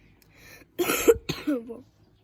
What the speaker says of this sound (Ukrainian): то я кашлю